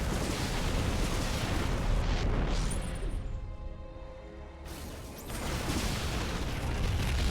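Protoss Nexus and base structures collapsing under attack in StarCraft 2, a sustained loud rumbling wash of explosions and crashing debris that briefly dips in the middle before surging back.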